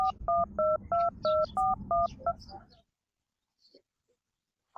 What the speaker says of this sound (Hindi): फोन लगाओ जल्दी से